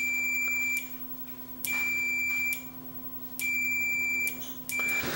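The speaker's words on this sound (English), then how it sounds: "when I press the switch in, the beep should stop" A Panasonic inverter microwave oven's door beep sounds, steady and high, in long stretches, stopping and starting again about four times, with a faint hum underneath and no talking.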